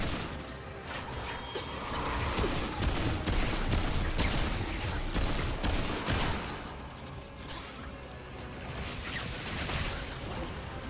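Dense, sustained gunfire from an engineer's guns in the Remnant 2 shooter game, a loud continuous barrage of shots and crashing impacts that stays thick throughout.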